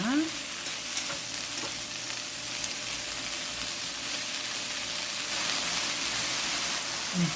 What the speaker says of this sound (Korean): 센 불에다가 얘를 얼른 볶아줄 거예요.